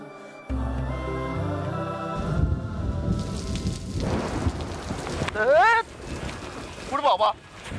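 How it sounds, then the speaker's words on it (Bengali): Thunderstorm with rain: a rushing downpour with low rumbling, a swell of music at first and brief voice-like sounds over the storm later. "বাবা, বৃষ্টি শুরু হয়ে গেল।"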